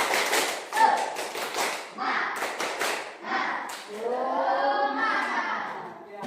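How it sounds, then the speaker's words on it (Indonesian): A school class performs a rhythmic spirit clap (tepuk semangat), bursts of patterned hand claps alternating with children chanting in unison, close and lively, ending in a sung phrase. "marilah kita sebelum memulai pembelajaran untuk tepuk semangat terlebih dahulu"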